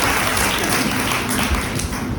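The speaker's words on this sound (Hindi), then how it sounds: "जो नहीं लाए हैं उनके लिए आप जोरदार ताली बजाइए" Loud applause from a Sunday church congregation, a thick, continuous wash of many hands clapping close by, steady throughout with no talk.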